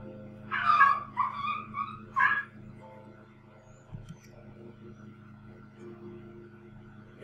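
Several dogs yip and whimper in short excited bursts early on, then quieter with low hum underneath, playful squabbling aimed at a puppy.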